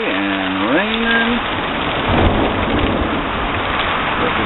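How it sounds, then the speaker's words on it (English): April thunderstorm with heavy rain pouring steadily and thunder rumbling through it, a loud low swell near the middle, while a voice briefly speaks over the first second. "and now we have a thunderstorm."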